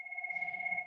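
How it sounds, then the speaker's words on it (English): A phone rings with a steady electronic ringtone, two sustained bright tones held for about a second, fairly loud and close, with no talking over it. "Sorry, that's my phone ringing."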